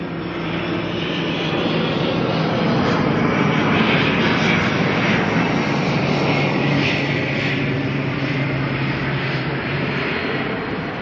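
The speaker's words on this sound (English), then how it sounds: "ATR going to head on out, but first it has to wait for an ATR to come on in." Turboprop airliner engines at Auckland airport at night, an ATR holding or rolling while another arrives, a loud steady drone with a low propeller hum throughout, no voices.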